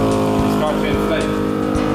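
An air compressor inflates a pickup-mounted pop-up camper with a loud, steady, close motor drone that does not let up.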